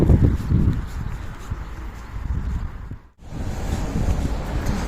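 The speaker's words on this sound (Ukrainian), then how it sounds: "Вибачте, у нас вітер" Gusty wind buffets the microphone with low rumbling bursts, dropping out briefly before the blustery roar returns.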